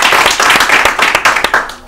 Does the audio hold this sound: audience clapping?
yes